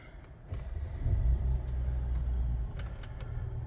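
A 2018 Mercedes E450 W213 E-Class starts with a push button: a low engine rumble swells after about half a second, then settles into a steady idle, with a few brief high chimes near the end.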